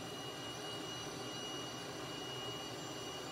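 A Cessna T-37B jet in a flight simulator game drones with a steady, dense engine whine and rumble as the throttle eases back, constant throughout without voices.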